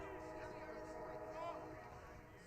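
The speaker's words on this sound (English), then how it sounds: "Here's the train here in Morristown in the background." A train rumbles past in the background in Morristown with a steady droning horn, heard faintly beneath a baseball game broadcast with people talking.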